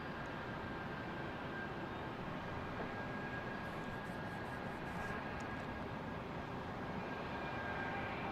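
Airliners taxiing at Boston Logan International Airport, a steady distant jet engine rumble and broadband roar holding constant throughout, with no talk.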